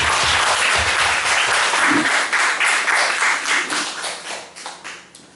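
A large church congregation applauds warmly during a Sunday service, a steady wash of clapping that gradually thins out and fades to scattered claps at the end.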